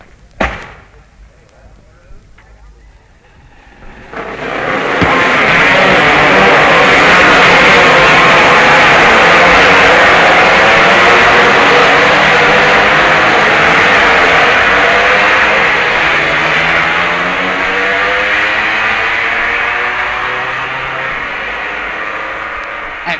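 Racing two-stroke Suzuki twin and four-stroke Honda twin motorcycles at the 1966 Isle of Man TT, a loud sustained engine roar swelling in after a quiet start and holding steady as the machines pass, with a slowly fading tail.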